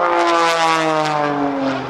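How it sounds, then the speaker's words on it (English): At the 2008 NAS Oceana airshow, an aerobatic airplane flies by, pulled by a 300 hp Lycoming Thunderbolt engine turning an MT propeller. It gives a loud, close, steady propeller drone whose pitch slides gradually lower over two seconds. "As we hear this 300 horsepower, this Thunderbolt engine from Lycoming, and an MT propeller pulling her through the sky"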